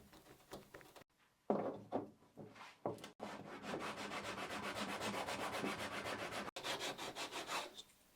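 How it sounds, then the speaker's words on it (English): Close, rhythmic strokes of a sanding stick rasping against wooden quarter knees on a boat, a few short rubs at first, then a long steady run of quick back-and-forth scrubbing. "then we'll clean it up with a chisel and then with a sanding stick"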